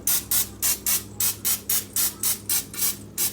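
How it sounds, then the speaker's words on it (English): Canola oil spray hisses onto garlic knots in about ten short, evenly spaced bursts, each a crisp close spritz with brief gaps between. "I'm just going to use this canola oil, and I'm just going to spray the tops of these"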